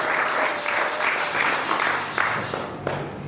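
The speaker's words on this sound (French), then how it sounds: "Et l'Église acclame et nous disons gloire et louange à toi Jésus" Church congregation at a Sunday service clapping in a steady rhythmic beat of repeated bursts, moderately loud and filling the room, with faint voices mixed underneath.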